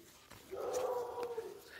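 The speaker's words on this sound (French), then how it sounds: "excusez-moi si vous entendez un chien aboyer" A neighbour's dog barks once from a distance, a muffled, drawn-out woof heard faintly indoors.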